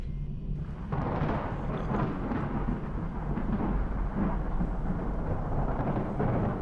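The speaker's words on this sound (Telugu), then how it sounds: "బాగా వర్షం పడేలా ఉంది." A deep, rolling thunder rumble heralds heavy rain, loud and continuous for several seconds with a broad, roaring texture and no voices.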